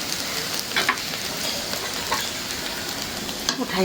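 Fish roe frying in hot oil gives a steady, close crackling sizzle with a few sharper pops scattered through it. No one speaks.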